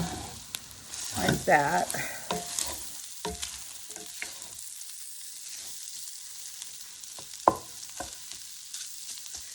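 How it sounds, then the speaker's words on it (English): A spatula scrapes across a pan of sizzling chilaquiles, a few rough scraping strokes over a soft frying hiss, then quieter sizzling with a brief clack near the end; a voice speaks briefly. "I just kind of scrape the pan"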